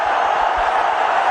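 A packed crowd at Mumbai's old Wankhede Stadium roars after a wicket in a 2005 India–South Africa one-day match, a loud continuous wall of cheering with no break.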